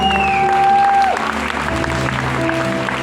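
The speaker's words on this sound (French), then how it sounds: "J'aimerais s'il vous plaît que vous applaudissiez des gens que vous avez vu passer en plateau." Applause from a live concert audience in Pamiers, a steady dense wash of clapping that continues after a held sung or instrumental note fades out.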